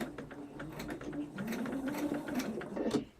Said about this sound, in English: And as I stitch, I'm not watching the needle.